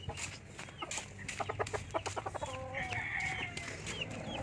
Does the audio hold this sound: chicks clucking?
yes